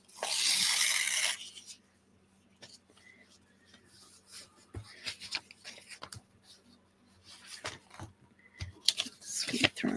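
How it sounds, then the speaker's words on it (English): Very thin, fragile Japanese paper tearing in a few brief, crisp rips close by, with a longer bright tear at the start and scattered rustling handling sounds between. "Hear that tear."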